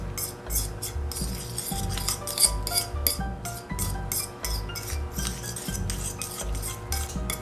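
A spoon stirring dough in a bowl, repeated scraping and clinking strokes of utensil against the bowl in a steady rhythm, close and moderately quiet.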